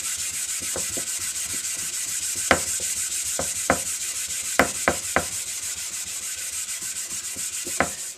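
Harley XL883 Iron motorcycle parts are scuffed with an abrasive pad before a respray, producing continuous close rubbing and scrubbing with a few sharper scrape accents scattered through.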